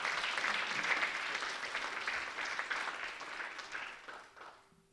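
Church congregation applauding during a sermon: dense, steady clapping that holds for about four seconds, then thins and fades toward the end, with no talk over it.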